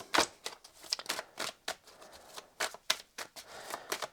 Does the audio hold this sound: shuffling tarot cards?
yes